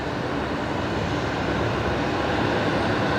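A steady, broad roar of jet engines from an Emirates airliner at night near Brisbane Airport, constant and fairly loud with no talking.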